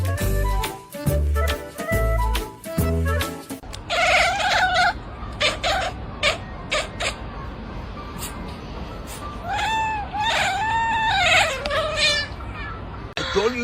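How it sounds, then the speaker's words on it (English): A small kitten gives several high, drawn-out meows in close succession, with a thumping low beat playing before the cries begin and background noise running underneath. "I told you it was a little kitty."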